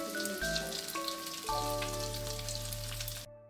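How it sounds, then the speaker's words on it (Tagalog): Carrot and potato fritter mixture frying in oil in a wok, a steady close crackling sizzle over a low background hum, with no one talking. "Prito lang natin siya hanggang maging golden brown yung ating mixture."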